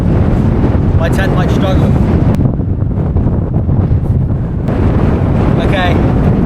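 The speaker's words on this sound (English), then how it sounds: "it's a lot windier than I thought it'd be" Strong wind on open Dartmoor moorland buffets the microphone in a continuous loud rumble, easing briefly midway, while a person speaks over it.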